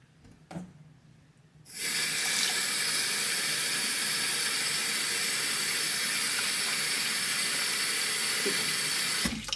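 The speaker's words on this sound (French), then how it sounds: "Et après, on met l'eau froide." Cold water pours steadily into a bowl for spring rolls, a loud continuous rush that starts after a short quiet moment and runs unbroken to the end.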